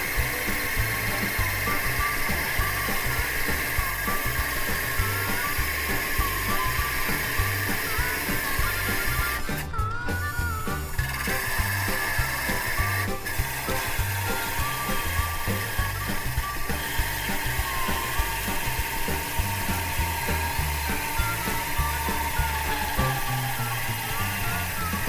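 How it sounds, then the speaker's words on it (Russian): A cordless drill fitted with an angle-grinder cutting disc cuts through a 12 mm thick steel part, giving a steady, loud grinding whir that runs unbroken for the whole stretch with only slight shifts in tone. "Сначала я попробую сделать это аккумуляторной дрелью."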